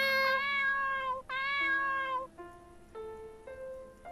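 Kittens meowing in the video game El Réquiem de Cloé, several clear, drawn-out mews one after another, the first two long and high, then shorter, lower cries, close and alone.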